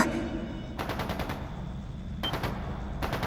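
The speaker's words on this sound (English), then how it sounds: "It's gunfire. And not just gunfire either." Rapid bursts of automatic gunfire in the video game The Legend of Heroes: Trails into Reverie crackle in two or three volleys over a low, rumbling background, loud and fairly close.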